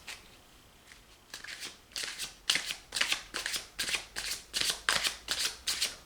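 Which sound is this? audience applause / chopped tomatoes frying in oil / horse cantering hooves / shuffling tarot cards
shuffling tarot cards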